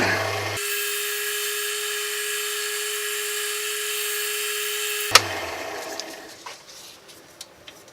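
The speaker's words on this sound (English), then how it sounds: "Clean the sandpaper off periodically. Coming out pretty fine. Hey, down to the last grit of 600." Cherry wood stylus pen blank being sanded with 600 grit sandpaper: a steady, close whirring hiss with a constant hum runs for about four and a half seconds, then cuts off, leaving faint scattered handling noises.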